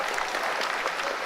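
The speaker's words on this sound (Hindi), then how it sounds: "आप सुन पा रहे होते हैं तालियों की गड़गड़ाहट" Scientists at ISRO mission control applaud during the Chandrayaan 2 lunar landing, a dense steady roomful of clapping that continues evenly throughout.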